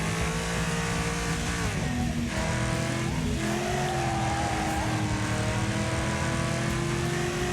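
A car engine in the racing game Wreckfest bogs down in gear, giving a loud, continuous droning roar that sags in pitch and strains without ever revving free.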